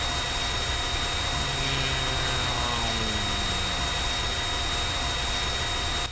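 An AV-8B Harrier II jet in the Minecraft helicopter mod roars with a steady, loud engine drone, and faint tones shift and slide through it.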